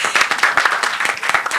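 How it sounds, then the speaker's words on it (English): Audience members clap together in a burst of brisk, dense applause at a women's celebration event, loud and close with no one speaking over it. "let's clap for them"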